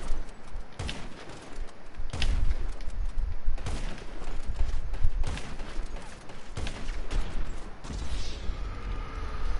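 Repeated sniper rifle shots in GTA, a Mark II sniper, sounding as loud sharp cracks spaced a second or two apart over steady game ambience, with no talk.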